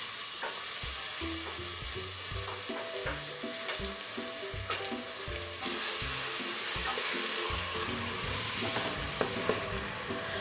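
Onions dropped into well-heated cooking oil for restaurant-style dal makhani fry with a steady, close sizzle, broken by repeated scraping and stirring knocks from a utensil in the pan throughout.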